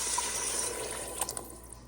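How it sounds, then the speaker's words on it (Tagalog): Water poured from a container into a cooking pot of potatoes for nilagang corned beef, a steady close splashing gush that gradually tapers off, with a few small drips and clinks near the end. "Ilagay na po natin ang ating water."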